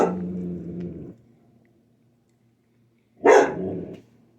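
A neighbour's dog gives two separate deep barks with a gruff, growling edge. The first opens the clip, and the second comes after a pause of about two seconds of quiet.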